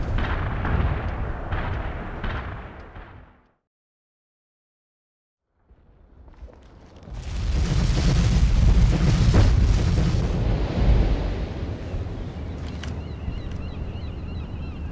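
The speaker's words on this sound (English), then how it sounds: "Zulu 9 are firing mortars." Mortar and artillery fire in the video game World in Conflict: heavy, rumbling booms and blasts roll loudly for several seconds after a short silent gap, with dense crackling explosions trailing off.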